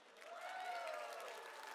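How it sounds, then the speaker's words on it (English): An audience at an awards dinner applauds in a banquet hall, a faint, fairly distant clapping with cheering and voices mixed in. "by a show of applause, and please feel free to ramp up your enthusiasm"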